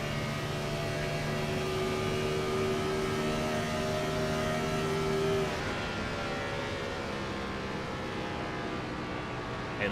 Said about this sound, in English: And listen at the engines as they get on that throttle. They sound mean.